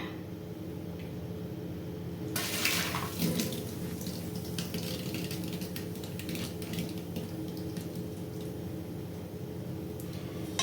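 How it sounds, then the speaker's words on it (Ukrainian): Dissolved yeast is poured into a dough mixture for Easter paska bread, giving a soft, continuous splashing trickle that begins a couple of seconds in and runs steadily over a faint background hum. "Вливаємо розчинені дріжджі."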